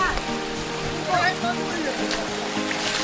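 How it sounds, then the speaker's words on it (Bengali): A waterfall on the Napittachora trail in Mirsarai, Chittagong, gives a steady rushing roar at middle distance, with faint voices mixed in beneath it. "একটা ঝর্ণা সামনেই দেখতেছি"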